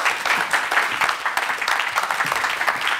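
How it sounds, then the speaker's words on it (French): Audience at a panel discussion on Africa-Europe democracy applauds in a steady, dense burst of clapping lasting a few seconds, fairly close and without speech. "On peut l'applaudir."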